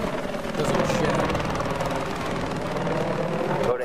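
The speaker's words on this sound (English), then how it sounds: "see the helicopter" A helicopter in the video game Battlefield 4 thrums with steady rapid rotor chop, loud and close throughout the short stretch, with no voices over it.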